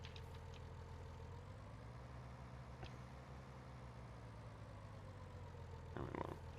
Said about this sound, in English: we're gonna park our little red tractor back right here